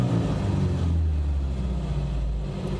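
A Suzuki Samurai engine with a Microsquirt EFI conversion running and revving, a steady low rumble close by that swells slightly and then eases off, with no speech.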